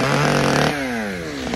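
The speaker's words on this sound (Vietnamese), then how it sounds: "Này anh Kiệt buộc cái máy cưa lên trên Sang" A chainsaw hauled up a large double-trunked tree for tree-felling work idles with a buzzing two-stroke drone, then its pitch slides down as the engine slows, close and loud with no talk.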